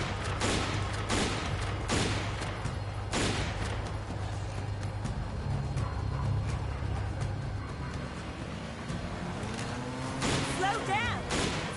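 Bursts of gunfire ring out from a moving vehicle in Resident Evil 5, repeated shots over a droning engine, with voices talking over the action.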